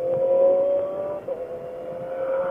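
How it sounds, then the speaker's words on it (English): A Mini Cooper fitted with an aftermarket exhaust drives past at moderate distance, a steady droning engine note that dips briefly and then resumes. "I hate when people put exhaust on Mini Coopers."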